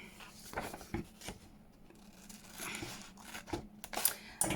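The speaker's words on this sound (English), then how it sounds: "I'm just going to cut round it." Scissors snip and rustle around plastic packaging in a papercraft project, quiet close-up cuts and crinkles with small handling noises.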